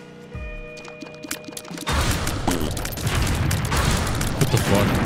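A dense burst of rumbling, crackling explosions in The Binding of Isaac: Repentance erupts after a short stretch of tonal game music and continues loud and unbroken to the end.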